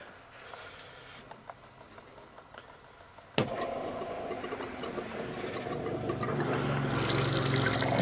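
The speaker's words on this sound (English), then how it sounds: "We're going to turn on the pump." A camper's fresh water pump switches on abruptly in an Aliner camping trailer, followed by a continuous rushing hiss of water flowing through the lines that grows slightly fuller toward the end.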